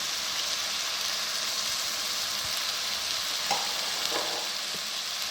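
Ground spices with turmeric, crushed red chili, chili powder, coriander and cumin frying for a mixed vegetable dish, an even steady sizzle throughout with a few soft spoon scrapes near the end.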